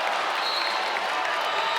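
Crowd applause and cheering in a basketball arena during a women's college game between North Carolina and Virginia Tech, a steady dense roar of clapping and voices that runs through the whole stretch.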